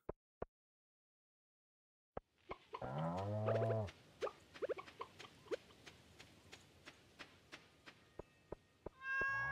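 A cat meows once in the farming video game Stardew Valley, a clear drawn-out call amid sparse, sharp game clicks and ticks, with a brief silence before it and a louder burst at the end.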